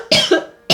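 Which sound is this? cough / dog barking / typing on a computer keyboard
cough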